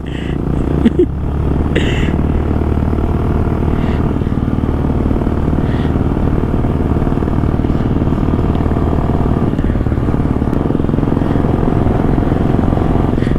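An Xpulse 200 and a Royal Enfield Bullet motorcycle strain uphill on the high-altitude Chang La pass road in Ladakh, a loud, continuous low engine drone laboring steadily, with brief clatter early on.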